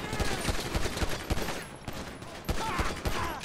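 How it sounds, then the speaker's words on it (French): Rapid bursts of video game gunfire from GTA 5 crackle in quick volleys, loud and sharp, with brief lulls between the shots. "Coup de feu, coup de feu."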